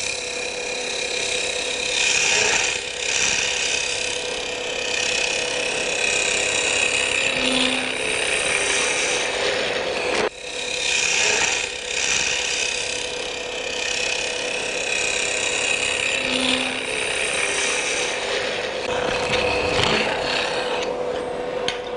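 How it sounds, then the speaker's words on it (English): A wood gouge makes a final cut on a lathe during hand thread chasing, giving a steady close rasping scrape that runs continuously with a few brief dips. "Final cutting now, down with the gouge."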